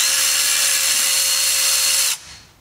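A power tool runs loud and steady on the last bolt of a vehicle differential cover during an ARB front and rear cover install, whining continuously for about two seconds before cutting off abruptly.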